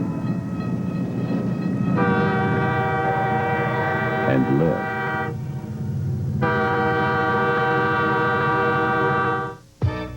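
A train rumbles past a grade crossing with a loud, sustained horn blasting in long chords, broken by a short gap, before the sound cuts off abruptly near the end.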